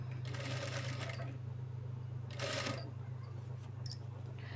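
A sewing machine stitches the neck band of a child's lehenga blouse in two short, fast rattling runs separated by pauses, close by over a constant low motor hum.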